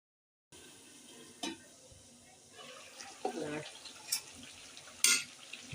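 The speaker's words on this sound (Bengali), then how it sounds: "আলু এভাবে উল্টিয়ে পাল্টিয়ে 10-15 মিনিট সুন্দরভাবে কষাইতে হবে" Potatoes being turned and fried in a pan over medium-high heat, with a steady low sizzle broken by a few sharp scrapes and clinks of a spoon against the pan, close by.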